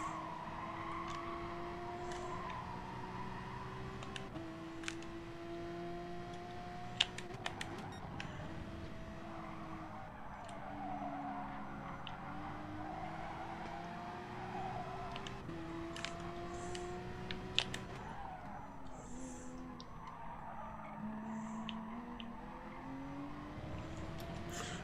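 A Porsche race car engine in a racing video game drones steadily throughout, its pitch rising and falling with gear changes, joined by occasional tyre squeal and skidding, with no talk.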